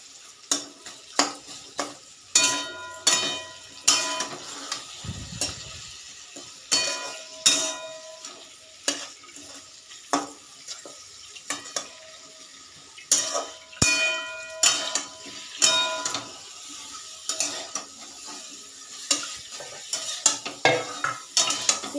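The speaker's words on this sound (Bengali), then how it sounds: "এবার আমি ভালো করে ভাজবো।" Chopped banana stem is stir-fried in a pan for curry, with a steady stream of clinks and scrapes from the spatula against the pan over a soft sizzle, and no voices.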